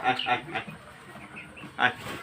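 Fayoumi chickens on a rooftop giving short, soft clucks in a few brief bursts, fairly close, with a voice speaking in the background.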